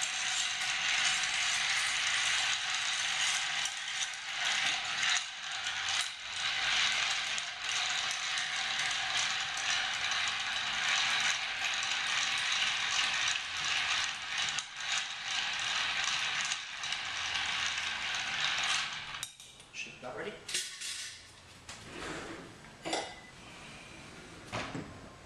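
Bar spoon stirring a cocktail in a mixing glass makes a steady, close rattle of ice for about twenty seconds, then breaks into a few scattered clinks.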